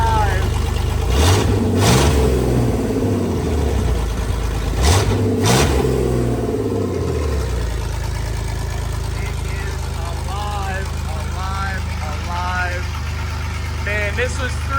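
A lifted Corvette build's engine runs with no air cleaner fitted, a steady close rumble with two brief revving surges early on, then settling into a rough idle while voices talk over it.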